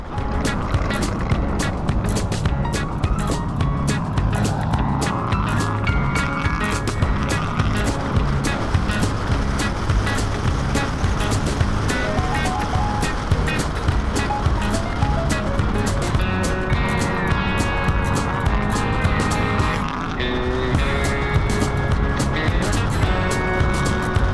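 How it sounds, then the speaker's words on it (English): A 1968 International Fleet Star 2000 dump truck with a Detroit diesel engine, a loud, steady high-revving engine drone with whining gear tones running continuously while it drives, with no talk. "cruising around in my old 1968 International Fleet Star 2000 dump truck. Detroit diesel screaming"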